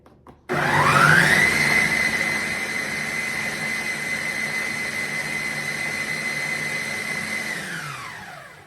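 A blender blending gazpacho soup roars to life, its pitch climbing quickly then holding a steady high whine for several seconds before winding down at the end.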